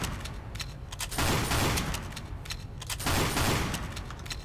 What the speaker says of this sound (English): I was in the same spot too, kind of like right here, where I fired both of those. And those are the scatterguns for TF2.